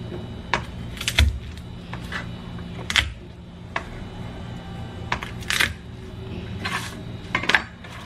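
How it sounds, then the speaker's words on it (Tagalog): Garlic cloves crushed with their skins on in a kitchen, a series of sharp, separate knocks and cracks at uneven intervals, close and fairly clear over a low steady background hum. "Crush ko lang yung garlic"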